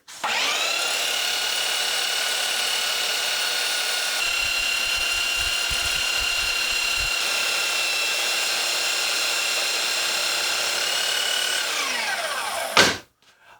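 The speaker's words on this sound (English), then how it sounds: "I need to take it all apart and reshape it at the belt sander" A belt sander whirs at a steady high pitch while reshaping a wooden support piece, loud and close with brief grinding contact, then spins down and stops near the end.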